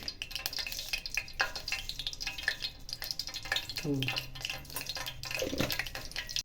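Mustard seeds and cumin sizzling in hot oil, a faint crackle with scattered sharp pops and spatters, as a voice talks over the cooking.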